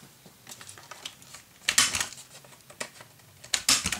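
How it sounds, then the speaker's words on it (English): A piece of craft paper is trimmed a little shorter. It makes sharp, crisp cutting snaps in a few separate bursts, close and fairly loud, over faint light clicks and a quiet room, with no speech. "I think then I am going to cut this piece a little shorter, just a bit."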